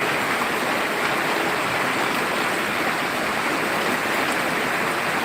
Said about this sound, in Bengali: সিরাজগঞ্জে প্রচণ্ড বৃষ্টি হচ্ছে আজকে